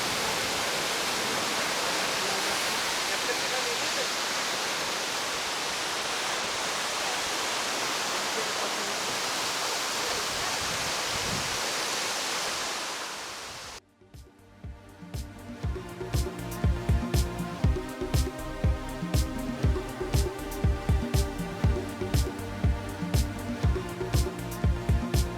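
A waterfall at a Jurassic Park filming location roars as steady, loud broadband rushing for about fourteen seconds, then cuts abruptly to rhythmic background music for the rest.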